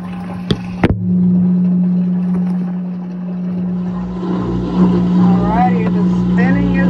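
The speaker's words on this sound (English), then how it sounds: "Alrighty, the spinning is starting as it's still draining." A Midea smart washing machine washing a load of white clothes drains with a steady low hum, then begins ramping into its spin cycle, two sharp knocks near the start and rising whirring tones later, all close and continuous.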